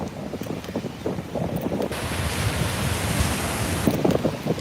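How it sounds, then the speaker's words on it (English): Outdoor wind gusting across the microphone, building into a steady, loud rushing buffet that swells and rolls on for several seconds. "All right, here comes the wind."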